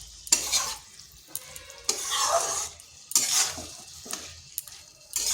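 Okra masala being sautéed and stirred in a pan, with bursts of scraping and sizzling in irregular strokes, fairly close and moderately loud, no talking.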